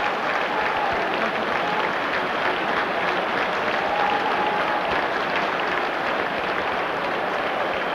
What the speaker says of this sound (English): Sympathetic applause then for Ruud Hullet.